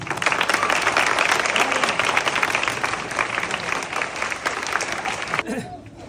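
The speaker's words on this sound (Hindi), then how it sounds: "ताली" Audience clapping at a school speech event in Pakistan, a sustained, dense round of applause from a crowd, dropping off sharply near the end.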